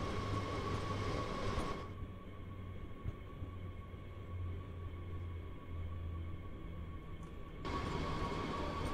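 An S-Bahn commuter train in the Train Sim World video game runs steadily, with a continuous rumble, rolling hum and faint rail noise. The pitch and texture shift partway through and then return, with no voices.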